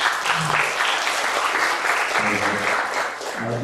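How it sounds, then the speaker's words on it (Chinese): Steady applause from an audience at an indigenous popular music lecture welcomes a singer-songwriter, dense clapping throughout while a few voices murmur briefly underneath. "那我们掌声欢迎"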